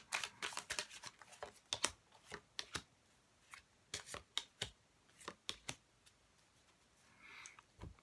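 Tarot cards being shuffled up close: repeated crisp riffling bursts and sharp card snaps in quick, uneven rhythm, fairly quiet, with no talking.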